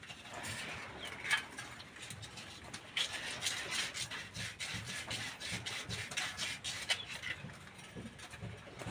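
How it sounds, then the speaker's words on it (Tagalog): Sandpaper scrubs back and forth over a pipe to roughen it before epoxy is applied, a steady, faint scratchy rubbing that keeps up for several seconds. "kailangan liyahin muna yung tubo natin para mas magaspang mas madikit yung epoxy"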